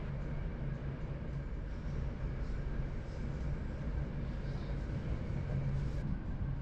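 An NS regional train in the Netherlands runs near Leiden, filling the space with a steady, loud low rumble and a constant mechanical drone that never lets up, with no voices over it.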